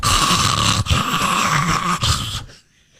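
A voice imitates a person snoring with a loud, close, raspy rattling snore that is drawn out over two breaths and then stops abruptly.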